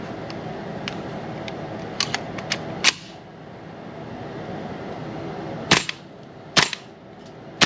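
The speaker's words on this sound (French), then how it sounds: "il y a beaucoup de gaz qui sort le fusil quand tu tires le fusil" A Tokyo Marui M4A1 MWS gas blowback airsoft rifle fires sharp snappy single shots, a quick cluster of light cracks early on, then a louder shot and a few spaced, isolated reports, each with a brief gassy hiss.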